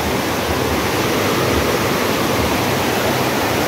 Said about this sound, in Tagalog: kusog-kusog po ang ragasa sa tubig.